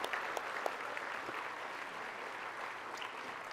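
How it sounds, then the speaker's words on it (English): Steady applause from a banquet crowd at a convention center, honoring the service staff at an agri-business dinner; dense, even clapping fills the whole stretch at moderate distance with no voices on top. "Let's give a big round of applause to all of the service staff here at the Salem Convention Center."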